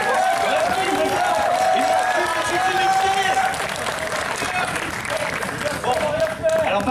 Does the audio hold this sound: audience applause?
yes